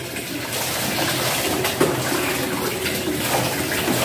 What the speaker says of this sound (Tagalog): Maligo na si Pachi